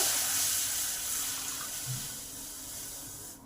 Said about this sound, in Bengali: কড়াতে হাফ গ্লাস জল দেবো